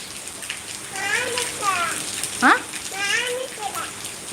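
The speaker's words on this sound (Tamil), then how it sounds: "மழை எங்கேருந்து பெய்யுது?" Steady rain falls on a surface as a constant hiss behind a child and an adult talking close by, the patter continuing evenly under their voices.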